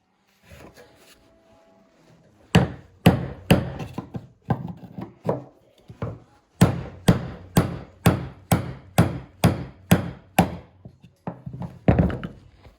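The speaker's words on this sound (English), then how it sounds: "You're gonna wanna take a hammer and hit it." Repeated sharp hammer blows on a metal plate of a GM fuel gauge, around fifteen strikes in a fairly steady rhythm, loud and close with short gaps between.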